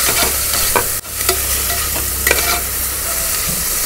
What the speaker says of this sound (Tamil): நல்லா ஆனியனை குக் பண்ணுங்கள், நல்லா ப்ரௌன் ஆகட்டும்.